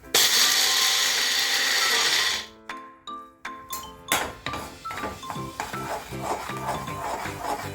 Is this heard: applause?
no